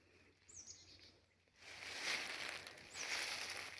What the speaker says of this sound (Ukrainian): Пташки так співають ще.